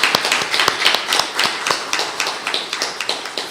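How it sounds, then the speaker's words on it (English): Audience at the official launch of SPECTRUM-E by ECTEL with the NTRCs applauds in a dense, steady patter of many hands clapping close by, without voices. "I was going to ask for a round of applause, so you beat me to it."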